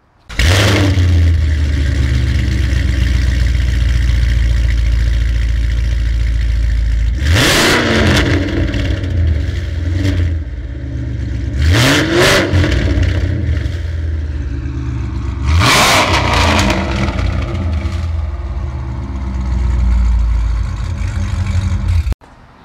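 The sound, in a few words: cold start of a tuned 800hp 2016 Chevy Camaro SS Yenko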